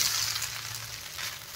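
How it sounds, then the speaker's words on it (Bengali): Chowmein frying in a pan, a steady close hiss and sizzle of oil with faint stirring underneath, no voices. "ভালো করে ভাজি হয়ে গেছে গা"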